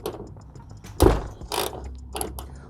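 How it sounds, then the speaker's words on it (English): A ratchet working a 12mm hood bolt on a Toyota RAV4 gives a few close, crisp clicking bursts, with one louder mechanical clack near the start and quieter ratcheting after it. "First thing you're going to do is remove the 12mm bolt from your hood."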